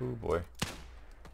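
Rifle gunshot in the Wild West Online video game, one sharp crack with a faint later report, heard under a voice reacting.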